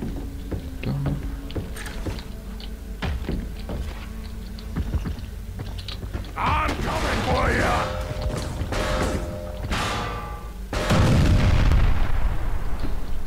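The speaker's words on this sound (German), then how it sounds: "Zu früh explodiert" Explosion in the video game Dead Man's Hand, a heavy boom rumbling near the end amid gunfire, clicks and other game effects, with someone talking in German over parts of it.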